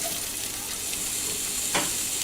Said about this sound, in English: I'm going to saute the peppers